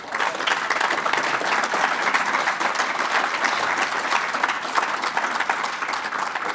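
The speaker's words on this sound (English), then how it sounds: "we just applauded" Audience at the MoneroKon 2019 conference applauding after a talk, with steady, dense clapping from a full room lasting several seconds at an even loudness.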